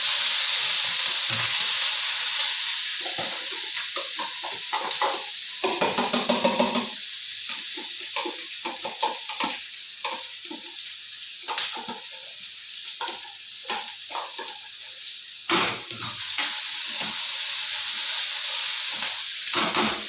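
Crushed onion, tomato and chili dropped into hot oil, giving a loud steady hissing sizzle that breaks into crackling spatters and stirring clicks before the hiss builds again.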